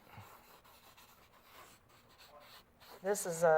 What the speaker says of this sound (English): if you take the marker and go over what I did and do your own thing, that's called inking